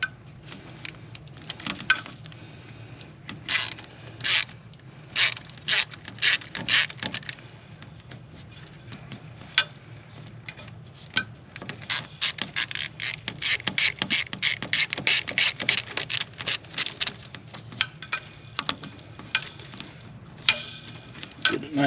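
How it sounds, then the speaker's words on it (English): Ratchet loosening an injector hold-down on a Ford 6.0 Powerstroke diesel engine, close rapid clicking of the pawl in repeated bursts, separated by short pauses and metallic handling noises. "as you're loosening this hold down, this injector is going to come up."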